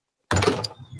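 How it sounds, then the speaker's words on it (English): The door of a green room at a comedy venue swings shut with one close thud and a brief rattle, then goes quiet. "you can't completely shut the door of the green room, or it locks you into the green room"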